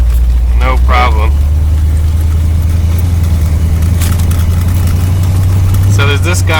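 A 1973 Corvette Stingray engine hums low and steady while the car drives along country roads, a constant deep drone heard up close with someone talking over it in short bursts at the start and end.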